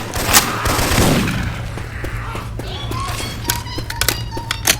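Rapid bursts of Syphon Filter weapon fire ring out in Left 4 Dead 2, sharp repeated shots with clattering taps and impacts over a steady game background hum.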